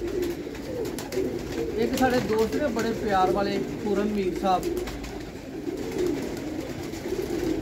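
Pigeons coo in repeated soft warbling phrases close by, while someone talks over them nearly the whole time.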